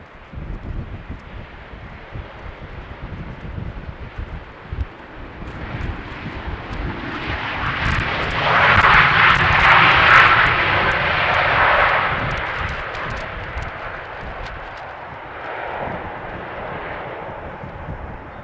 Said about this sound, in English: So this is a Boeing 737-700 inbound from Venice.